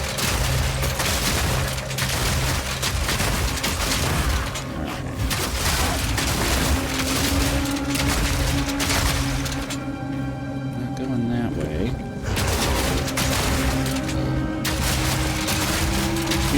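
Explosions in the action game Path of Exile 2 thud and crackle in a dense, continuous barrage, loud and layered with game effects, while a person talks over them throughout.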